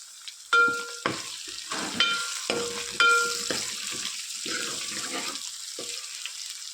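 Ginger frying in a pan, a light crackling sizzle broken by sharp metallic clinks and scrapes of a spoon stirring against the pan, close and moderately loud.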